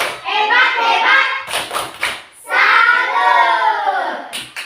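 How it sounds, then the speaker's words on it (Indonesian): A school class performing the "tepuk salut" clapping chant for a student group: children's voices chant in unison, punctuated by sharp hand claps, the chant rising loud in two bursts with brief pauses between. "Mari kita berikan tepuk salut untuk kelompoknya Stefan."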